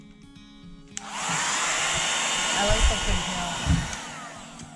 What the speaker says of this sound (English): let's hit it with the hairdryer, heat it up, and get that glue loosened up